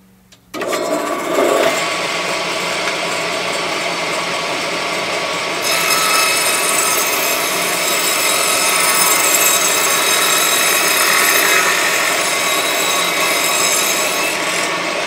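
A power saw with a thin curved blade cuts a rabbet in wood, starting abruptly and running as a loud, steady, whining buzz that grows brighter partway through and continues to the end.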